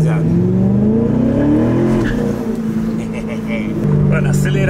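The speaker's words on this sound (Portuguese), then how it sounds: "acelerar esse carro é divertido" Chevrolet Corvette sports car accelerating on the road, its engine revving loud and steady with a rising then falling pitch, close up, while people talk over it.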